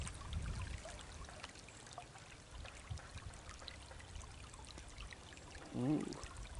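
A shallow little stream in winter woodland trickles and burbles softly and continuously, a faint, steady watery wash with a brief louder splash near the end.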